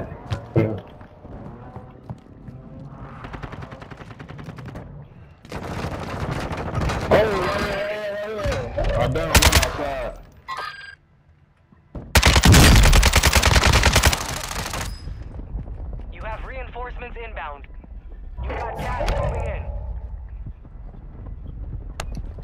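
Gunfire from a gun in a shooter video game comes as loud, rapid bursts, with one dense volley standing out over the game noise.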